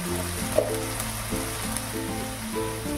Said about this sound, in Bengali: মশলাটা আমি 2 মিনিটের মতন একটু ভেজে নিলাম।